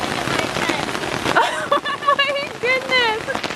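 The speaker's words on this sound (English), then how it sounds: "Downpour! I'm stuck in the kitchen tent!" Heavy rain pours down on a camping kitchen tent, a dense steady patter loud and close throughout, while a voice exclaims over it.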